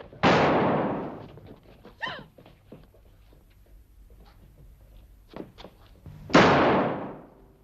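Two loud gunshots in a 1958 western film, roughly six seconds apart, each with a long echoing decay, separated by quieter scattered thumps and rustling.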